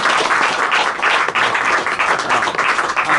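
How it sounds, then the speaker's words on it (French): An audience claps for a lecture speaker in a hall, a loud, dense, continuous round of applause with no voices over it. "On applaudit La Bruyère."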